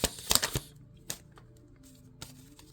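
Tarot cards are riffled in a quick crisp burst at the start, then a couple of isolated soft snaps as a card flips over, in a quiet room.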